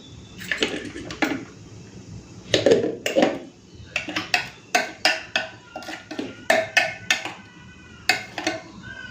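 Kudri spice paste is ground by hand on a stone without water, with irregular bursts of scraping, knocking strokes in short groups separated by brief pauses, close and fairly loud.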